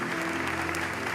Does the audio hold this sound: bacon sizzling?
no